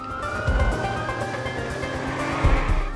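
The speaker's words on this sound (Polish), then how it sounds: "Samochody śmigają jak powalone" Cars racing by in the Watch Dogs video game, a loud continuous engine roar with rising whine and low rumbling surges as vehicles speed past close up.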